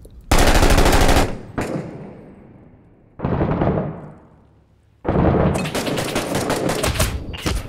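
Loud automatic gunfire from a realistic first-person shooter game comes in three long, rapid bursts separated by short pauses, each sharp and close with a fading tail.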